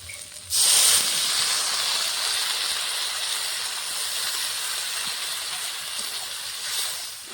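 Water poured into a hot pan of spiced vegetables for a spinach-stem vegetarian curry sets off a sudden loud hiss and sizzle that then settles into a steady steaming rush, close by, with no talking.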